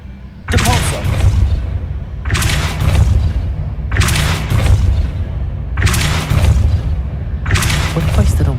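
Depulso spell cast in the video game Hogwarts Legacy: five loud, heavy booming blasts repeat at an even pace, each one a broad forceful burst that fades into a low rumble before the next hit.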